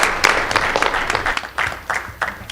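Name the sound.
audience applause for a high school swim team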